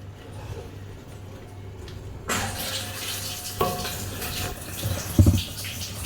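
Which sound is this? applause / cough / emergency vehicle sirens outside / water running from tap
water running from tap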